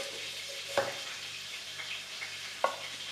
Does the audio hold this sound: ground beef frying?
yes